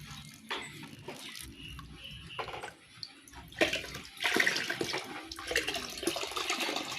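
Water drains from a giant gourami fish tank in uneven gushes and splashes, with quieter gaps between surges and a louder, busier stretch near the end.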